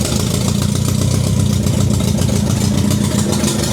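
A BMW K100 motorcycle engine runs in first gear with the rear wheel spinning, giving a steady, close mechanical drone with a fast pulsing beat and no talk.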